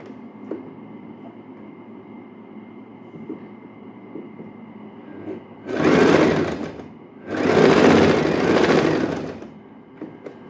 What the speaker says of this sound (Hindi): ये वाले कट तक हमें सिलाई लगानी है इधर ऐसे